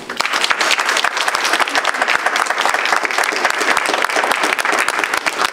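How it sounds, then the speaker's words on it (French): A crowd claps steadily, dense applause that stays loud and even for the whole stretch. "Je pense qu'il mérite une main d'applaudissement."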